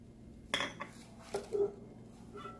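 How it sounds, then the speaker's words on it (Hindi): Almonds dropped into a blender jug, a few short, hard clinks and rattles close up against a quiet background, with no talk. "जग में डालेंगे सबसे पहले बादाम।"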